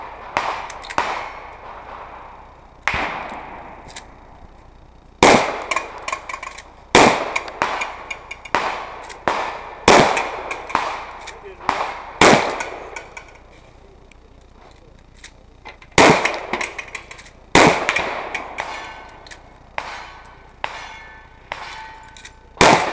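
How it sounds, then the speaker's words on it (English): Shotguns and other guns fire at a cowboy action shooting event, sharp loud reports and ringing clangs of steel targets in quick rhythmic runs, with pauses between strings and faint voices at the range. "Coming this way, shotgun."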